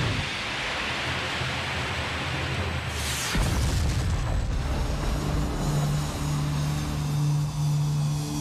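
Missile blast destroying an airliner, a sudden deep boom erupting after a steady background rumble and trailing into a long low roaring decay, moderately loud with no talk.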